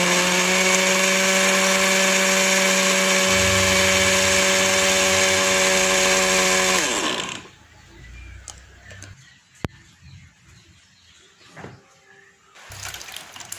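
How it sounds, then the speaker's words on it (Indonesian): A kitchen blender whirs loudly with a steady high motor whine while pureeing steamed sweet potato with water, then winds down and stops about seven seconds in, leaving faint clinks and handling noises. "Setelah itu, blender ubinya ini sampai halus."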